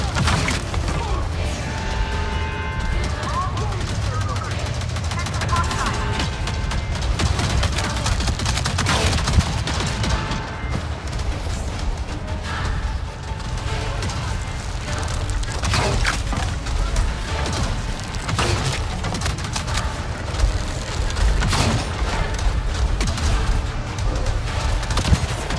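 Sustained gunfire and explosions in the video game Avatar: Frontiers of Pandora, a dense, loud and continuous battle din with repeated shots, booms and mechanical clatter throughout.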